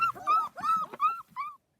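Australian Shepherd and Great Pyrenees cross puppies whimper and whine close by in four short, high, wavering cries that stop before the end.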